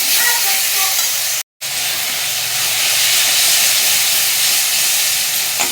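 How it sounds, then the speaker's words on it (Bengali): Ginger, garlic, green chilli and tomato paste hits a hot pan for a soybean and potato curry, giving a loud, close, broad sizzling hiss that runs continuously, broken once by a brief gap, with no talking. "এই যে আদা রসুন কাঁচা লঙ্কা টমেটো বাটাটা দিয়ে দেবো, দিয়ে এটাকেও একটু কষিয়ে নেব।"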